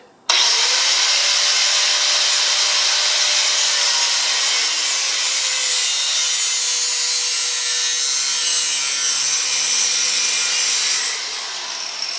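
An aircraft fuselage tube structure being cut gives a loud, steady grinding rasp that runs unbroken for about eleven seconds, then drops away abruptly near the end.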